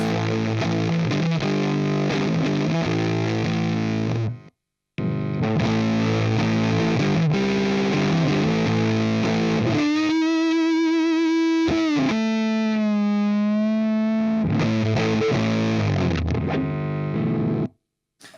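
A Stratocaster electric guitar played through distortion rings out in loud, sustained chords and bent single notes, with a short pause early on and no talking.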